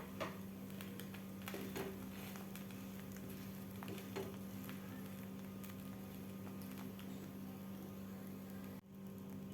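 Pav bread toasting in a pressure cooker pan, a quiet steady sizzle with faint ticks and scrapes throughout, a low hum beneath, and a brief drop near the end.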